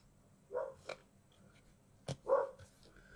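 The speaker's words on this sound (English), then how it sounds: "Hear my dog in the background there." A dog barks a few times in the background, short faint yaps spaced apart in an otherwise quiet room.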